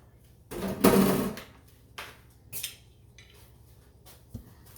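Air fryer door being shut in a home kitchen, a solid thump with a brief rattle, then a few lighter clicks and knocks, close and fairly loud.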